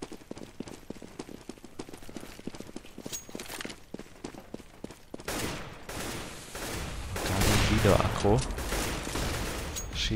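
Counter-Strike gunfire on the de_inferno map during a competitive match, a steady run of quick sharp shots at first, then heavier rumbling fire and noise building toward the end, with commentary talk mixed underneath.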